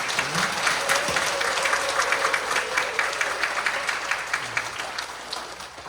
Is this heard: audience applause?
yes